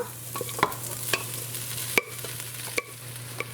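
Vegetables sautéing in a pan for a macaroni pie, stirred with a utensil that taps and scrapes the pan in irregular strokes over a soft, steady sizzle, close and fairly quiet, with no voices.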